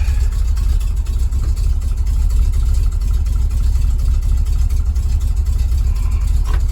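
A steady, low engine idle from a GMC 6500 truck, idling rough while cold, rumbles continuously and loudly, with a slightly uneven, rough texture and no talking.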